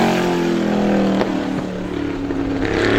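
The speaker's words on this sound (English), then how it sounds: "Final lap for Duggan here in the 51 car." ISMA supermodified race car number 51 on its final qualifying lap at Star Speedway, a sustained engine roar whose pitch sweeps as it passes, holding steady and fairly loud throughout.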